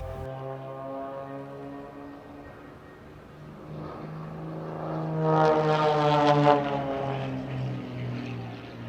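Two propeller aircraft fly wingtip to wingtip in mirror formation, one inverted, at the Eastbourne airshow. Their engines make a steady, humming drone that swells louder and brighter as they pass closest, then eases off slightly.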